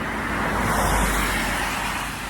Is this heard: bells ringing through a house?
no